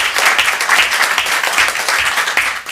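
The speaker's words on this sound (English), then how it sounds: "Let's have another round of applause for our amazing students and teachers." Audience applause at a school board of education meeting honoring students and teachers, loud, close clapping from a room of people with a rhythmic pulsing texture, continuous for the whole stretch with no voices.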